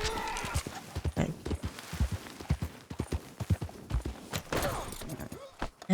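Horse hooves clip-clop in steady walking rhythm through snow in Red Dead Redemption 2, moderately close and mixed with someone talking over them.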